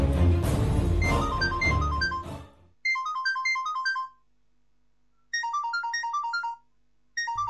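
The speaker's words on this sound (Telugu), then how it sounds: "ఎవరో ఫోన్ చేస్తున్నారు, అట్టుకొస్తానుండండి" A phone ringtone plays a bright, repeating melodic pattern in separate bursts with short silences between, loud and close, after a stretch of music.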